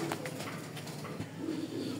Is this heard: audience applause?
no